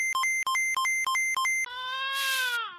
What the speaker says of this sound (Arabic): انا سامع صوت بيبي بيبكي، يمكن الجيران ولا حاجه.